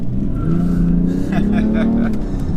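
A 2017 BMW 335d diesel with ZF eight-speed automatic and xDrive at full throttle, the engine note rising steadily and loud from inside the cabin, a gear change partway through.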